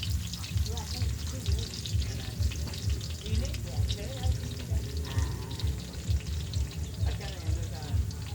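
Garlic and onion sautéing in a pan for igado, a constant frying sizzle with rhythmic stirring and people talking over it.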